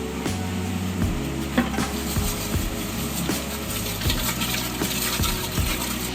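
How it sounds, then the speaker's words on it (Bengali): Washed rice goes into boiling water, heard as a steady, close, rushing bubble and gush with small splashing knocks running throughout. "জল ফুটে এসছে, এবার চালটা ধোয়া ছিল, চালটা দিয়ে দিলাম।"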